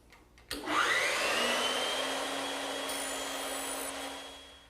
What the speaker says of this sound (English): but the bandsaw is just quicker